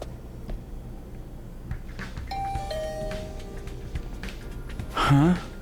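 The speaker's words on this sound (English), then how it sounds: "I rang Hideko's doorbell, but there was no reply" A two-tone electronic doorbell chime from the video game The Hundred Line: Last Defense Academy rings once, fairly clearly, followed later by a brief rising electronic tone over quiet background.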